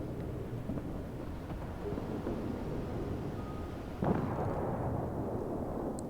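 Naval guns firing high explosive shells in World of Warships from the cruiser Pensacola: a sustained low rumbling barrage with one sharper boom midway, dense and steady, no talk.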